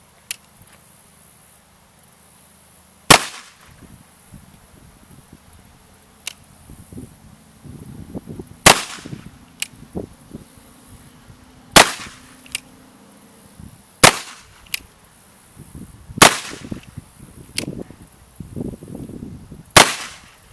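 An 1851 Colt Navy .36 caliber revolver fires six loud, sharp shots at a range, spaced a few seconds apart, with quiet rustling and handling noises between reports.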